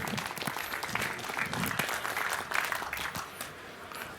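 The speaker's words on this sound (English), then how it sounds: "I would like to hear a warm round of applause for Reticulum" Warm applause from a conference audience after a talk introduction, dense steady clapping from many hands that fills the whole stretch at an even level.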